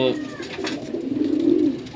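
Anmol breed pigeons coo in short, close, soft low calls, with a voice speaking over them.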